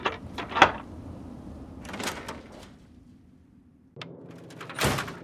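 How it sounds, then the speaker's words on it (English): A door in Fallout 3 being unlocked and opened: a sharp metallic clack, a rattle of handling, then a low creak and a final thunk, near and moderately loud, with no talking. "Let me unlock the door for you."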